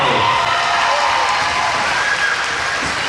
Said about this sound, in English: Give her one more nice round of applause.